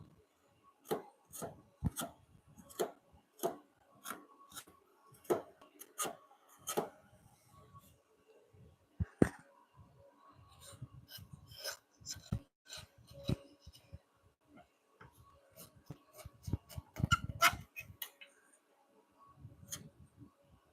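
A sharp Robert Sorby chisel, about two inches wide, pares wood in a garage workshop. Irregular sharp taps and brief scraping cuts come quietly in a series with short gaps between them.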